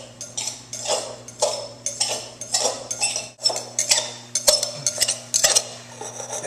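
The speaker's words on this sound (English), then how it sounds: "And now stir it up." A utensil stirs okra in a half-and-half batter in a bowl, giving repeated scraping, clinking strokes in an uneven rhythm, close and fairly clear, with no speech.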